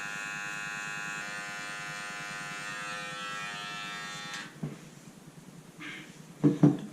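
Electric barber hair clippers with no guard trimming a line during a blowout haircut: a steady close buzzing hum that runs for several seconds, then cuts out, followed by a few faint handling knocks.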